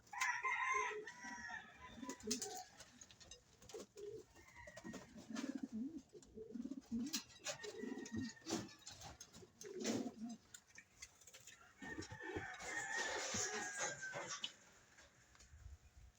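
Pet fancier's pigeons coo and call in their loft, overlapping soft throaty calls and brief sharper cries, moderately close and continuous for the whole stretch, with no talk.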